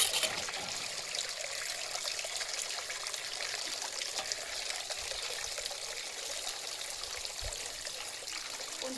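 Water pours from a vessel in a steady, close trickle that runs on without a break, poured little by little while rubbing in shampoo.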